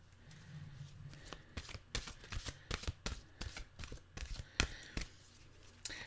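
A deck of mantra cards is shuffled close by, a run of soft riffling flicks and taps, quiet and without talk.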